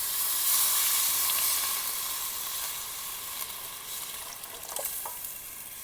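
Gujarati drumstick kadhi poured into a hot cooking pan and stirred, a strong steamy hiss and sizzle that eases off gradually, with a few soft scrapes near the end.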